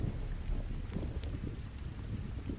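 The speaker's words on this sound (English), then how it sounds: "the rain and the thunder started pouring in" Heavy rain pours in a steady dense wash with low rumbling thunder underneath, continuous and fairly quiet, no voices.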